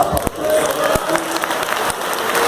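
Congregation applauding inside a church, steady broad clapping that fills the space, with a few sharper individual claps standing out near the start and midway.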